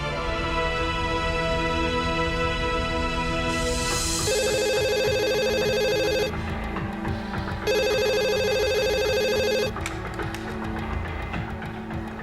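Telephone ringing in an Indonesian TV drama: two long electronic rings in repeated bursts, loud and close, over a busy background of music or room noise, with no talking.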